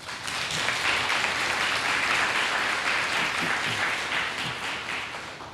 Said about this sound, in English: So I think all of you deserve a huge round of applause.